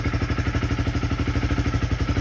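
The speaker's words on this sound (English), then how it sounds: "you hear the engine kind of unstable because it's getting richer" A Honda CB300R motorcycle engine fitted with a high-compression piston runs close and loud, its rapid pulsing beat uneven and slightly unstable as the fuel mixture changes, with no one talking.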